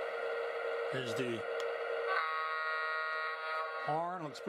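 A Lionel LionChief Plus model train sounds its electronic horn, a sustained buzzy multi-tone blast held for several seconds, with someone talking over parts of it.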